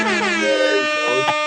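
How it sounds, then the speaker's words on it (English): A Jamaican air horn sound effect blares loud and close, one sustained brassy blast with a stuttering tail, while voices talk faintly underneath. "Jamaican air horn"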